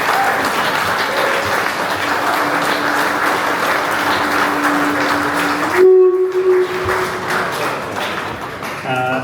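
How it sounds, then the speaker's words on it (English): Audience applause for three panelists at the close of a property-buying panel discussion, steady dense clapping filling the room that fades out, followed by a short tonal sound and faint voices. "So big round of applause please for Ian, Tessa and Mark"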